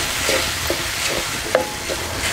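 Tomato with turmeric and onion-garlic masala being stirred in a pan, a steady low sizzle broken by several light scrapes and taps of a spoon, close and moderately loud.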